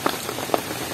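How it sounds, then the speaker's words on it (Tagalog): Heavy rain pours steadily on surfaces at an outdoor wedding venue with string lights, a dense continuous patter with a few louder drops, close and alone with no talk. "Ang lakas ng ulan."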